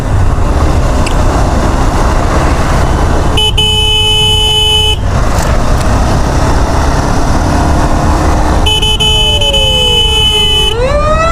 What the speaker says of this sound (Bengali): মানুষ দেখেন কত লম্বা জাম লাগাইছে